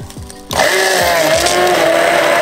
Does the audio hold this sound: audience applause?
no